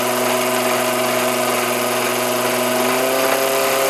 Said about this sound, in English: The motor does get a bit warm, but now it seems to sort itself out. It carries on going.